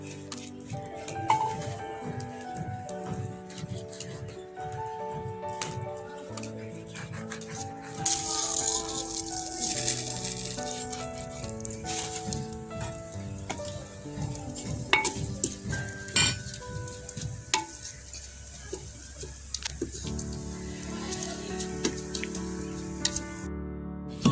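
Onions frying in ghee in a pot for village-style aloo gosht, with sizzling, stirring and pans rattling near at hand. Music plays throughout, loud over the cooking sounds.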